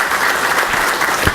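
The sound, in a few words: applause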